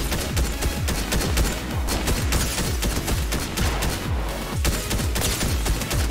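A purple AK rifle in Fortnite fires rapidly and without pause, a loud, steady stream of sharp gunshots with only brief gaps between bursts.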